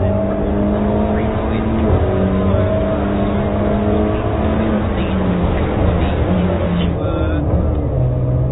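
A TCR touring race car engine at the Zandvoort hairpin drones steadily, its pitch sliding up and down through gear changes, heard from inside the car with a voice briefly over it.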